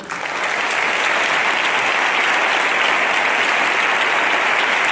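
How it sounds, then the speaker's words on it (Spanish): Sustained, dense applause from a large audience after a Holy Week proclamation in Jaén, steady and loud from start to finish with no speech over it. "el aplauso que la gente te ha brindado"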